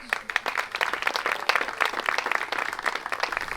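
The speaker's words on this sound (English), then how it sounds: "Get a round of applause for the Lee's family." A room full of people claps for the Lee family, warm sustained applause that stays fairly even throughout, with no one speaking.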